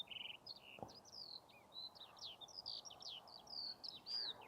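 A small songbird chirps and twitters in a rapid, continuous string of bright high notes near a calm riverside path, fairly close and clear over a quiet outdoor background hush.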